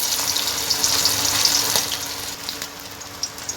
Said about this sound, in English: Here another batch is frying.